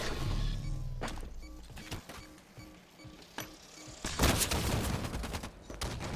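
Video game gunfire rings out in a rapid fusillade of sharp shots, spaced bursts with a dense, loud cluster near the end, heard alone with no talk.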